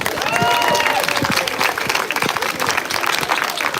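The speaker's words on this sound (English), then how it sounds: "Let's do one more round of applause for Diane." A crowd at a peace rally applauds steadily, dense clapping filling the space, with a few voices calling out underneath.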